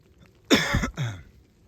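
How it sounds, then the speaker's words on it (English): A single harsh cough, close and loud, made by a hiker out on the Appalachian Trail, with one short burst followed by a brief second rasp before quiet returns. "Except for maybe my cough."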